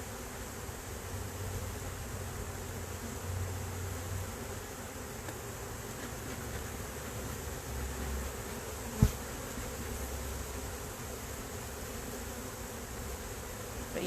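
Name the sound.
honey bees buzzing around an opened hive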